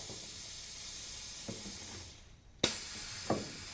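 An air vise on a Doall C-916-S swivel bandsaw releases a steady hiss that fades out, then a sharp loud burst of air and a smaller puff follow, close and without talk.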